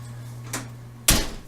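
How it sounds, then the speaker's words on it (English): An oven door is handled in a home kitchen during breakfast cooking: a soft knock, then a louder, close thud as it swings, over a steady low hum. "will you open that oven for me?"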